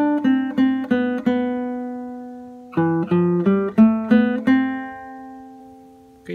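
Acoustic guitar picks out the single-note melody phrase of a song, a quick run of plucked notes, a pause, then a second flurry of ringing notes, close and clear with no voice.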